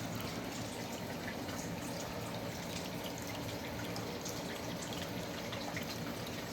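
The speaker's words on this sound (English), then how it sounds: "The actual DHU is actually dumping in constant. Look at that drip." A dehumidifier drains water in a steady stream beside an indoor pond, giving a continuous, even trickling and splashing that stays level throughout, with no talking.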